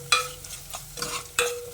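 A spoon stirring chili powder and coarse salt into a pot over the heat: a few scraping strokes against the pan with sharp clinks at the start and end, under a soft steady sizzle.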